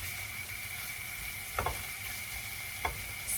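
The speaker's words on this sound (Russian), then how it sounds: "добавляем еще немножечко масла. Прям совсем немножко. Обжариваем еще минуточку." Pastry filling frying in a little oil in a pan, a soft continuous sizzle and hiss heard at low level, with a couple of brief utensil scrapes near the middle and end, no talk.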